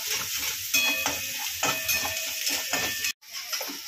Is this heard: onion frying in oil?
yes